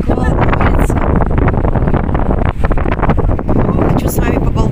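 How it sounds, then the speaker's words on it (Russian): Strong sea wind buffets the microphone in a constant roaring rush, loud and unbroken for several seconds. "Такой ветер, друзья."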